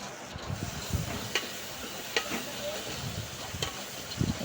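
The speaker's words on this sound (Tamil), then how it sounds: "கேரட்டையும் போட்டு நல்லா கிண்டணும்" Carrots and tomatoes frying in a pan give a soft sizzle under a few scattered spoon taps and stirring scrapes, close by but fairly quiet.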